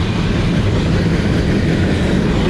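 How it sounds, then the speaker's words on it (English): A train passes close by, a loud, continuous low rumble with rail clatter that fills the whole moment, with no voices. "this train decides it's gonna come through"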